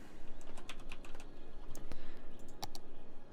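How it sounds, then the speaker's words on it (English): Close, irregular bursts of computer keyboard typing tap out a short string of keystrokes, crisp and isolated with quiet gaps between clusters. "Let me type in fountains altogether."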